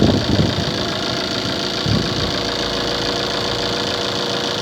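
A Tata truck engine idles with a smooth, steady mid-pitched rumble, close and continuous. A slight bump comes near the start, and the idle stays even and free of shaking for the rest of the clip.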